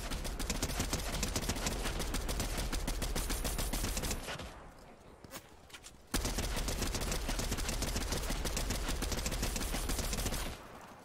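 Sustained rapid gunfire in Fortnite, fired at a llama, loud and dense automatic bursts running for about four seconds, a brief lull, then another long volley of continuous shots.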